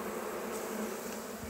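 Honeybees buzzing at an opened beehive during a spring hive inspection: a steady, dense, close drone of many bees, with no talking.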